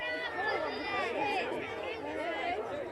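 A local crowd murmurs and chatters at a snail racing event, a close, continuous babble of many voices with no single speaker standing out.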